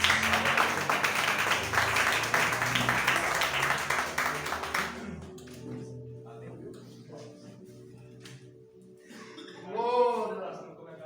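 A church congregation applauds in a dense, steady wash of clapping that cuts off abruptly, leaving a quiet room with faint murmurs and a brief voice.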